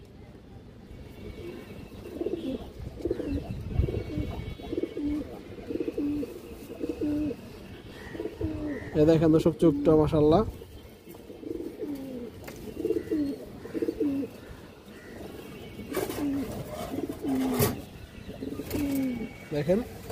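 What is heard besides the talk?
pigeons cooing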